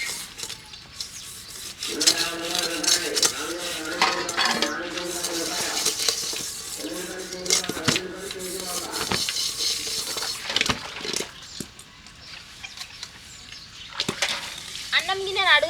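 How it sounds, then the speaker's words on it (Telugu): Steel rice pot bottom being scrubbed hard while dishes are washed in a village, rapid rough rubbing strokes in bursts with clinks and knocks of the vessel between them, close and fairly loud. "అన్నం గిన్నె అడుగున గట్టిగా దోమకపోతే అన్నం పాడవుతుంది, అందుకని గట్టిగా దోమిన"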